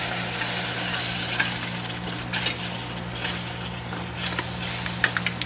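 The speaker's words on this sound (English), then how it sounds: "We're going to go ahead quickly, hurry up and start stirring." Browned flour stirred in a hot pan for gravy, a close continuous sizzle and frying hiss with scraping spoon strokes and a steady low hum underneath.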